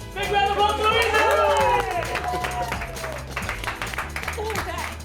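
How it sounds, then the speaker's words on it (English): A TV studio audience applauds for Lisa, a woman just pranked into thinking zombies are real, with clapping and cheering voices blending into a loud, busy crowd din that stays steady throughout. "Big round of applause for Lisa!"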